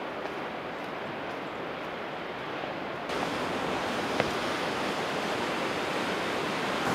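Waves breaking on a beach, a steady broadband surf wash with some wind across the microphone, growing slightly louder partway through, no voices.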